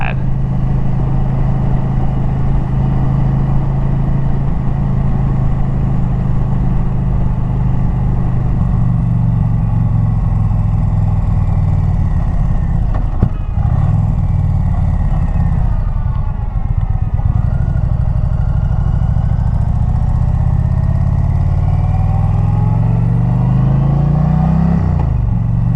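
Steady engine drone from a vehicle cruising down the road, loud and continuous with a low rumbling hum throughout and slight shifts in pitch as it holds speed.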